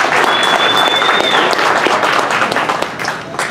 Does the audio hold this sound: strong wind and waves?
no